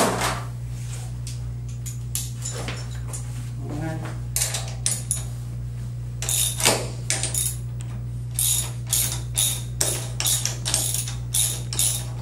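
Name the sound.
socket wrench loosening nuts off bolts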